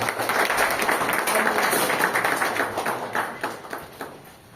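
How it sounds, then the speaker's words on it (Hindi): Audience at a loan and credit card meeting in Shahapur, Mumbai, clapping to welcome guests, steady fairly loud applause that tapers into scattered claps at the end. "इनका जोरदार तालियों से स्वागत किया जाए।"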